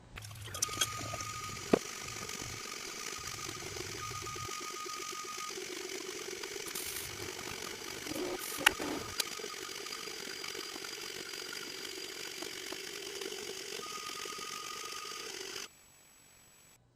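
An Anet A8 3D printer runs steadily while printing a benchy, a continuous mechanical whir with faint stepper-motor whine and occasional small clicks, moderately close, with no speech, until it stops near the end.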